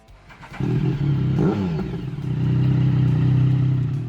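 A British Triumph Sprint Executive motorcycle engine catches after a brief quiet moment, gives one sharp rev, then settles into a loud, steady, close running note.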